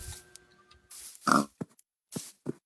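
A Minecraft pig on a pig farm gives a few short grunts spaced apart, mixed with other brief game sounds, and no speech.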